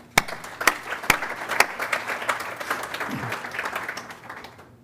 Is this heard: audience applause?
yes